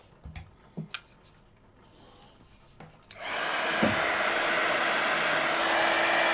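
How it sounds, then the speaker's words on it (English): A heat embossing tool switches on after a few faint clicks and handling taps, then blows hot air in a steady, close, loud whooshing hum that continues to the end. "Heat up your tool so it goes red, and then go for it."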